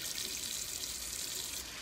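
Water runs from a tap into a sink and splashes steadily at close range as water is splashed onto a face, faint and continuous for under two seconds.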